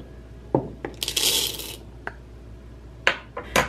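French roast coffee beans crushed in a mortar and pestle: several sharp, separate knocks and clacks with a brief gritty grinding scrape, close and fairly loud, no talk.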